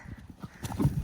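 Horse hooves clip-clopping over ground during a show-jumping training session, a loose run of soft thuds building toward heavier, closer impacts at the end.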